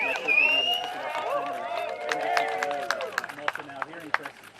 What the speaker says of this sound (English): I'm also now hearing, Chris, some more applause from those who are here